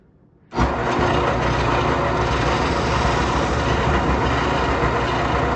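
A small drum sander mounted on a drill press grinds a curved channel in a wooden child's step stool, starting abruptly after a brief quiet and then running as a loud, steady, broadband whir.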